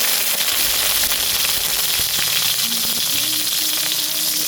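Garlic sizzles steadily in a hot pan while being sautéed for a home-cooked chicken chop suey, a dense continuous frying hiss with faint clinks of utensils stirring, no talking.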